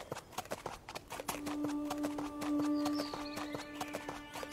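A purebred horse walks along with steady, crisp clip-clopping hooves close by, accompanied by a sustained tonal hum in the middle of the clip.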